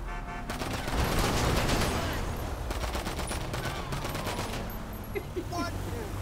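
Gunfire in the video game GTA 5 Online: a loud burst of rapid automatic shots followed by scattered cracks and reverberating blasts over a busy background.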